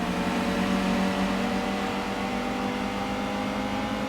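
A Fiat Coupe engine in the Gran Turismo 2 racing game runs at a steady, loud drone with a constant pitch, without a break, and no talking.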